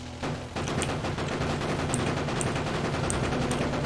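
Rapid gunfire from the player's weapon in Factorio, a dense repeating burst of shots starting suddenly and continuing steadily, fairly loud and close, with no talking.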